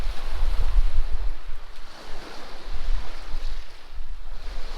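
Ocean waves roll onto a rocky beach at Rockport State Park in a continuous low rumbling surf with gentle swells, mixed with some wind buffeting.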